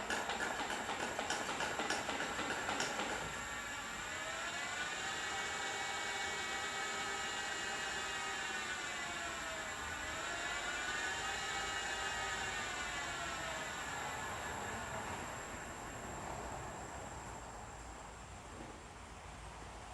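A Lexus GS450H hybrid gearbox tail shaft spins under electric-drive throttle, giving a steady whine whose tones rise, dip and climb again over a low rumbling hum, with no voices.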